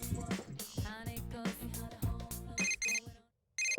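A phone ringing in the Persona 4 video game: short bursts of bright electronic beeping come after a stretch of game music, with a pause between the bursts.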